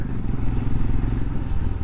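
A police motorcycle being ridden, its engine giving a steady, loud, rumbling drone with some rattling clatter throughout.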